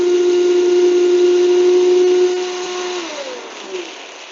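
A Vitamix Ascent series blender runs with a loud, steady motor whine and a bright tonal hum, alone. After about two seconds the pitch slides downward and the sound eases as the motor slows.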